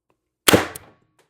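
A single sharp crack from an Umarex TR50 air rifle with a tuning barrel firing a Vindicator pellet, close and loud, with a short ringing decay and no talking.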